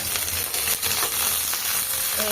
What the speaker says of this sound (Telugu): మిరపకాయలనైతే ఇలాగైతే వేయించుకోవాలి బాగా